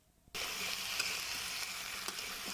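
Mixed vegetables poured into hot sizzling masala in a pan, a sudden loud burst of sizzle after a brief quiet start that then holds steady with light stirring.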